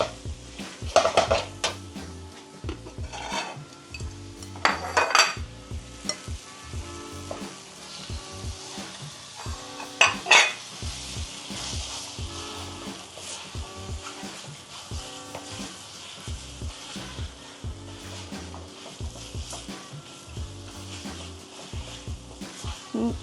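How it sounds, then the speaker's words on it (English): Beef stir-frying with green chili paste in an oiled pan for Thai green curry, with repeated metal utensil scrapes and clatter against the pan over a low sizzle, close and moderately loud. "Stir fry until they mix with the chili paste."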